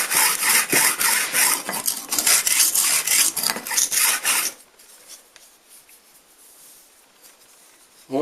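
Close, rapid scraping as a cleaning tool is dragged through the groove of a chainsaw bar to clear out dirt, a rough gritty rasp in quick strokes that stops abruptly, leaving near silence.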